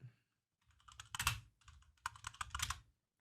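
Keys clatter on a computer keyboard as terminal commands are typed, with close, crisp keystrokes in two quick bursts separated by a short pause and no voices.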